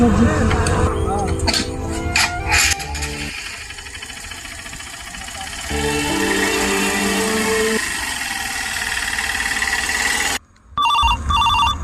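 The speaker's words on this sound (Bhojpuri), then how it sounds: "उठाइए ना भैया का फोन।" A mobile phone rings in repeated tonal bursts for several seconds, with an engine idling in the background and people talking.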